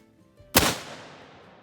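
An Armsport Kentuckian black powder rifle loaded with a 40-grain powder charge fires once outdoors, a single loud, close boom with a short fading tail after a quiet moment.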